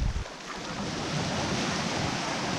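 A strong, steady roar of wind and surf on the Barents Sea shore in rough weather, loud and unbroken with a blustery rumble buffeting the microphone.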